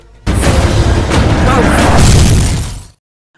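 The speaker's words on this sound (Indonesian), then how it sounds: "Ram menjebak Kaiser hingga ia tidak dapat keluar dari mobil tersebut dan meledak." A loud, sustained car bomb blast with crackling debris and rumbling low end, lasting nearly three seconds before cutting to silence.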